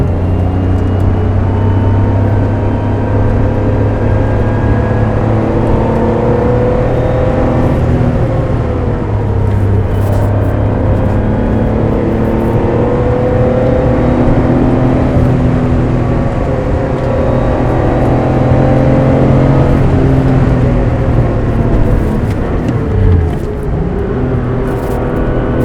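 A classic 40-year-old Porsche 911 Carrera with 90,000 miles, its engine droning steadily and loudly from inside the car as it is held at high revs while driving, a continuous unbroken roar.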